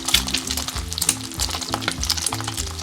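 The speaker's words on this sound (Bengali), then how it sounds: "এইভাবে আমি সবগুলো ভেজে নিব।" Potato and egg shami kababs fry in a hot pan with a steady, close sizzle and crackle, marked by repeated soft scraping or turning sounds at an uneven rhythm. No one speaks.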